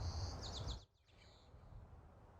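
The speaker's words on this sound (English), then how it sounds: "Let me adjust that bird sound you guys can hear." Bird chirps in a video game, a few quick repeated high tweets over a low rumbling background that suddenly drops away, leaving a quieter ambience with faint chirping.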